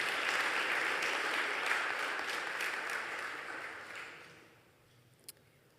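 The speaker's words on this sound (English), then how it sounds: "So give them another round of applause." Sustained applause from a large crowd at a university scholarships and awards day, loud and steady, then gradually fading away, ending with one sharp click.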